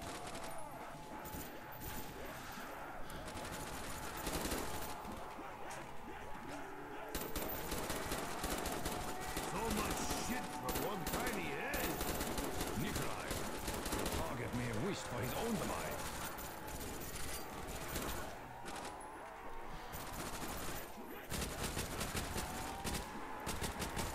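Rapid bursts of gunfire in Call of Duty: Black Ops Nazi Zombies on the Der Riese map crackle over a dense, busy soundscape, with players talking throughout.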